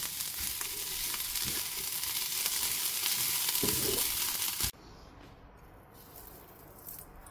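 Whole spices, coriander seeds and black pepper, roast lightly in a pan with a loud, even dry sizzle and faint stirring scrapes, then drop suddenly to a much quieter hiss.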